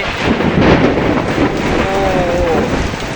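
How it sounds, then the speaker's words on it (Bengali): Heavy rain pours steadily with a low rumble of thunder rolling underneath, loud and continuous with no voices. "অনেক জোরে বৃষ্টি হচ্ছে"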